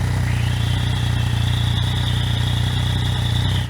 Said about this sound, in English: You can hear the internals of the engine a lot better